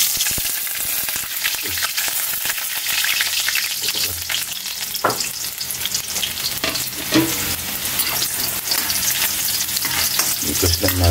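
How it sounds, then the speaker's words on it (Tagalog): Garlic sautéing in hot oil for pancit gisado, a loud, continuous crackling sizzle up close, with occasional scrapes and knocks of a spatula stirring in the pan. "Kaylee, gigisahin na natin yung bawang natin, Kaylee."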